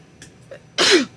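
A single sharp sneeze from someone with a small cold bursts out close and loud after a couple of soft breaths, then fades into quiet.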